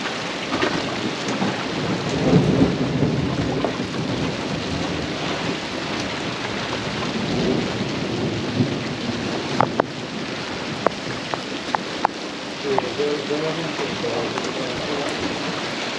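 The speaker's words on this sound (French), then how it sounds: "Et on est prêt à affronter l'orage." Thunderstorm with steady rain drumming around a boat moored to a buoy at Porto Pollo, with distant thunder rumbles and a few sharp drips or cracks later on, continuous throughout.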